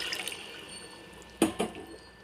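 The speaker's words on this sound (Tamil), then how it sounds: "நம்ம வேக வச்ச மட்டன் தண்ணியை நாம் ஊற்றிக்கலாம்" Cooked mutton stock being poured into a biryani pot: a couple of brief liquid splashes and glugs over quiet kitchen background, close and moderately loud.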